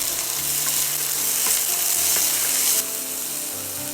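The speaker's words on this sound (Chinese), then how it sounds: "放入杏鲍菇翻炒，加1把花生米" King oyster mushrooms and peanuts stir-fry in hot oil in a wok, a loud, close, continuous sizzle with light scraping strokes, easing slightly near the end, with no talking.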